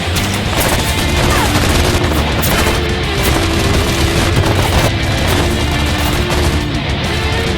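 Dense, continuous gunfire and booming blasts from a Halo 5 firefight, loud and sustained throughout, with rapid bursts layered over heavy rumbling.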